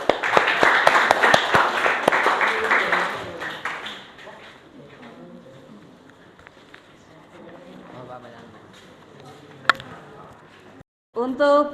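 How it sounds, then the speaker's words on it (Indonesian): Classroom applause, a burst of many hands clapping together from a group of students, loud and dense for about four seconds before fading into quieter room sound with faint talk. "Kasih aplaus."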